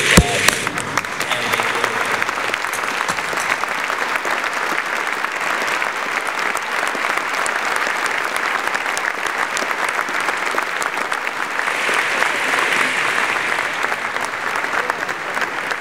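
Sustained, steady applause fills a dinner hall as the audience honors the New York Blood Center Board of Trustees. It holds at an even level throughout, with no voices standing out.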